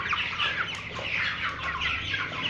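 Sick chickens in a crowded poultry house cluck and chirp continuously, a dense overlapping flock chorus close to the listener with steady loudness throughout.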